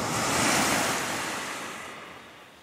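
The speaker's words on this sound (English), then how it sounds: "We're at some kind of a beach, Crystal something." Surf washing onto a beach in Halifax, Nova Scotia, a single broad wave swelling and then slowly fading, with wind buffeting the microphone and no voices.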